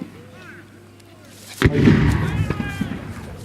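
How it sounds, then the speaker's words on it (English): A Civil War reenactment artillery cannon fires once, a loud, booming blast with a long rumbling tail, preceded by quiet background voices. "Once found, you want your artillery to open up."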